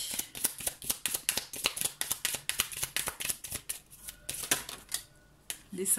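Tarot cards shuffled by hand in a rapid, even run of crisp riffling snaps close to the microphone, slowing and thinning toward the end, where a card slips out.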